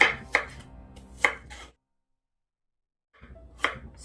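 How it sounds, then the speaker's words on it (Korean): A few sharp knife chops slicing garlic on a cutting board, spaced irregularly, with a gap of silence before one more cut. "마늘은 편을 썹니다."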